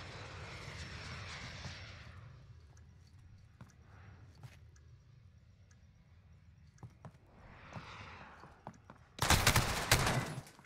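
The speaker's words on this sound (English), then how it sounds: "They still have a VTOL." A VTOL aircraft in Call of Duty Modern Warfare drones overhead with a steady engine roar, scattered gunshots crack throughout, and a loud burst of gunfire or explosions hits near the end.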